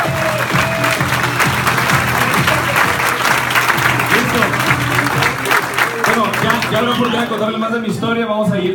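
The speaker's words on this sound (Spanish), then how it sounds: "un aplauso otra vez para ustedes" Applause from a live audience at a motivational event in Medellín, a dense, steady clapping wash lasting several seconds, with cheering voices and music mixed in toward the end.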